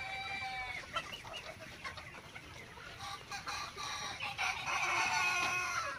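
Golden chickens on a poultry farm cluck in a busy chorus, with a rooster crowing near the start, continuous and moderately loud throughout.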